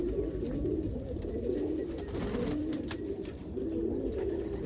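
Almond pigeons cooing during mating, soft repeated coos close by and steady against a quiet background hum.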